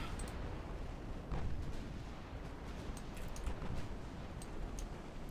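Naval guns fire from warships in a naval warfare strategy game, rumbling low booms and scattered sharp reports over a continuous dull roar, with no voices.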